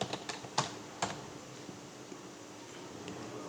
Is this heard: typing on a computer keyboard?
yes